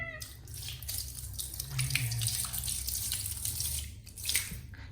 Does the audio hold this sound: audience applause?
no